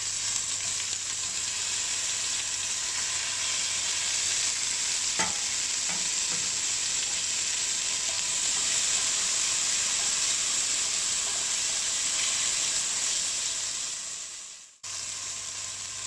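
Onions, drumstick and pumpkin sizzle loudly in a frying pan, a steady bright hissing fry with occasional stirring, cut briefly by a short break near the end.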